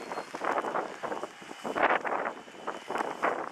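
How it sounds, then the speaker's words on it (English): Strong wind gusts from a Chicago blizzard buffet the microphone in uneven, rushing waves, with no one speaking. "A little windy."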